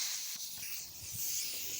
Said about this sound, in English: I like to use the air hose just to get on the sand up.